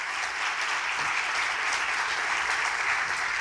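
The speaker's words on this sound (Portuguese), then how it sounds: "vamos receber o pastor Silas com palmas em nome de Jesus" A church congregation claps to welcome the pastor at an anniversary service, a loud, even, continuous wash of applause from many hands throughout.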